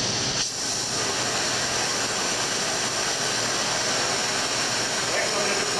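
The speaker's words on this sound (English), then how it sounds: "Next, I'm going to open my oxygen preheat valve to neutral flame." An oxy-fuel cutting torch burns with its oxygen preheat valve opened to a neutral flame, producing a loud, steady, broadband roaring hiss close by with a brief dip near the start.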